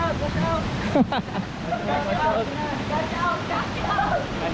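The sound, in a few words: mountain stream water flowing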